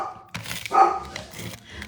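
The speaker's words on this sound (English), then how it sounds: "My dogs are going to bark right now." Several pet dogs bark in short bursts indoors, a louder cluster in the middle with scattered yaps around it, fairly close in a home office.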